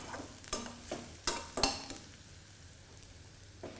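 Onions sautéing in a pan for a Chettinad potato and green peas fry, with a few sharp spatula taps and stirring scrapes over a faint, quiet sizzle, alone and close.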